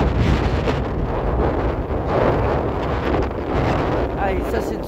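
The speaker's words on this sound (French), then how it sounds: "Le vent est puissant." Strong gusts of a winter storm wind, around 70 km/h, buffeting a microphone outdoors with a loud, constant roar that surges and dips, while a person speaks in French.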